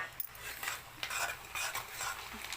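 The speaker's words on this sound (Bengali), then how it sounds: "কড়াইতে তেল দিয়ে আমি পেঁয়াজটা সুন্দর করে ভাজা ভাজা করে নিচ্ছি।" Onion fries in oil in a wok while mutton is being cooked, giving a soft continuous sizzle broken by repeated scraping and clinking as a utensil stirs the pan.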